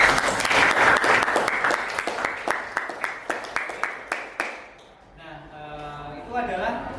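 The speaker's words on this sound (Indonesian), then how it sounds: "Tepuk tangan untuk Mas Jani" A classroom of students claps for a classmate during a history lesson, with dense, close applause that thins into a few scattered claps and fades out, followed by a voice speaking.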